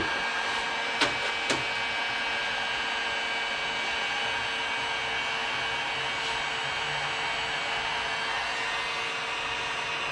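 A heat gun blows steadily as it warms a rubber fuel pump hose on a 1969 Plymouth Valiant on a chilly day, an even whooshing hum running alone throughout with two brief clicks near the start.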